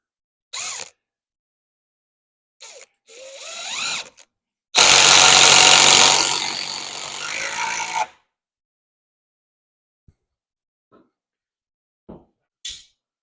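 A power driver runs big screws into a 2x4 wooden truss, one long loud whirring burst of several seconds, with shorter quieter mechanical bursts and clicks before and after, close by with no talking.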